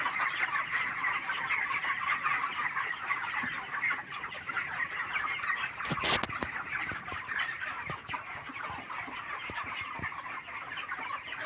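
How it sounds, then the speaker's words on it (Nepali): A dense chorus of many 30-day-old chickens on a poultry farm clucking continuously, close and fairly loud, with a brief sharper burst of noise partway through. "आज मेरो 30 दिन भएको छ फार्मको यो कुखुरा"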